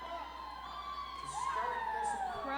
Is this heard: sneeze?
no